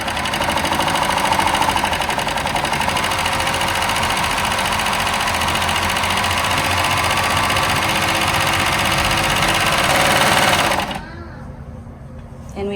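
A Baby Lock Victory serger stitches a rolled hem with a steady, close mechanical whir that runs unbroken for about eleven seconds, then stops and leaves a quiet room.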